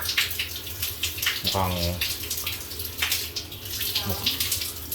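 Hotel shower running in a steady, close hiss of falling water, with two brief bursts of talk over the spray.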